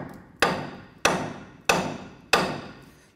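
A hammer taps the upper ball joint out of the front axle of a 1993-1997 Ford Ranger, giving four sharp metallic strikes at a steady, evenly spaced rhythm, each with a short ringing decay, close and alone.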